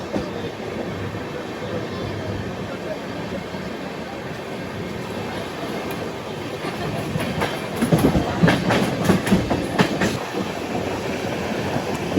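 Falaknuma Superfast Express rolling fast along the rails at night, a steady loud rumble of wheels on track with rhythmic clatter building over the joints toward the end, no voices.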